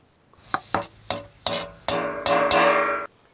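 Dry shrimp powder is mixed by hand with chili powder, garlic and salt, giving a run of close, rough scraping strokes that lengthen and grow louder toward the end.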